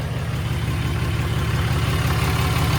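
A Ram 3500 diesel pickup idles while warming up, giving a steady, loud, close low-pitched drone with an even rhythmic chug that continues without change.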